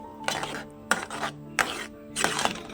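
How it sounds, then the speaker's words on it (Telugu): A spoon stirs puri curry in a metal pan, giving four separate scraping, clinking strokes at close range, each about half a second long with short pauses between them. "మనం ఇలా తిప్పుతూనే ఉండాలండి, లేకపోతే మీరు చూడండి వీడియోలో దగ్గరికి అయిపోతూ ఉంటుంది"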